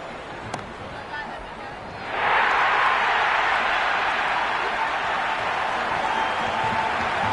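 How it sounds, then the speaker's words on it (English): Crowd noise in the Cricket 26 video game during an IPL match swells suddenly into a loud, sustained roar of cheering that holds steady after a quieter stretch. "The crowd are really getting quite raucous."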